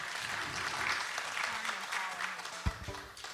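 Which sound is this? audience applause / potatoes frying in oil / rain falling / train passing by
audience applause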